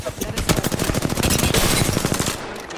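Automatic weapons fire in a fast, loud stream of closely spaced shots during an Apex Legends match, lasting almost three seconds with brief gaps.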